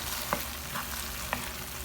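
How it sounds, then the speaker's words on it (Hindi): Already-cooked chicken being stirred into a slurry in a pan over a low flame: a soft, continuous sizzle with a few light spoon scrapes spaced through it. "अब हम इसमें अपना प्रिपेयर्ड चिकन ऐड कर देंगे और इसको अच्छे से इसमें मिक्स करना है।"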